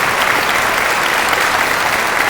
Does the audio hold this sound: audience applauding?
yes